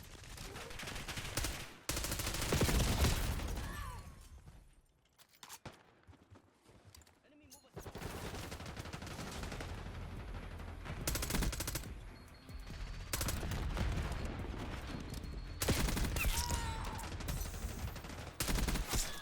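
A KSV SMG fires in Call of Duty Black Ops 6, with loud, dense bursts of rapid gunfire in the game's combat. Long automatic volleys are broken by a brief quieter gap partway through.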